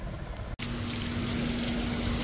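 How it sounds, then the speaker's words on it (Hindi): Heavy rain pours down in a sudden storm, a dense steady hiss after a short break, loud and close with no voices. "बारिश आ गई है जबरदस्त एकदम माहौल बना के चाहे तो धूप ही लगड़ रही थी फुल तेज तूफान और बारिश"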